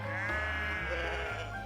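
Sheep bleating in a pen in the video game Love and Deepspace: one long, wavering, nasal bleat, close and clear over a low background music drone.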